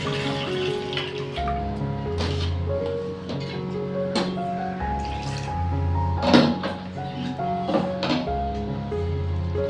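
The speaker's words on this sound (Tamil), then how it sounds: "இப்போ பருப்பு கூட சேர்த்து இன்னும் 2 வாட்டி கழுவி எடுத்துக்கலாம்." Rice and lentils are washed together in water in a kitchen. Soft sloshing and swirling continue throughout, with occasional splashes and clinks, and there is no talking.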